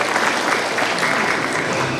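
Steady, dense applause from an audience at a year-end party ceremony, filling the whole moment evenly without pause, no voices rising above it.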